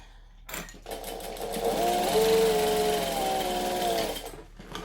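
A sewing machine runs a seam allowance on fabric pieces, starting after a brief pause and humming steadily at close range for about three seconds before stopping.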